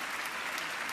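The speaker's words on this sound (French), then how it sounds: "Applaudissez toutes les chorales quand même." Concert audience applauding the children's choirs at a televised French variety show, a dense, steady wash of clapping filling the whole second without a break.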